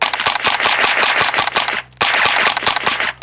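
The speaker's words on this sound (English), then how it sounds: "Rapid fire. Shoot as fast as you can with that thing." Rapid fire from a .22 rifle fitted with a Dead Air RXD22 Ti suppressor, a quick string of sharp, muted pops in steady rhythm, close and loud, with a brief pause before another burst.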